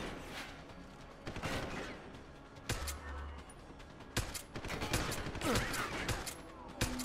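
Pistol gunfire in the video game Deus Ex: Human Revolution: a scattered series of sharp, cracking shots at irregular intervals, some clustered in quick bursts, over a quiet game background.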